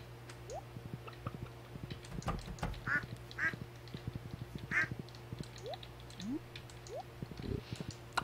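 Quacking ducks on a farm in the Stardew Valley video game, several short quacks scattered among soft clicks and game sound effects over a steady low background hum, with no one talking.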